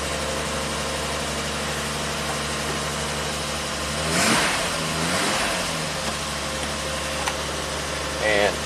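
A 1967 Triumph GT6 engine idles steadily, then briefly revs up before settling back to a smooth idle, with a short sharp sound near the end.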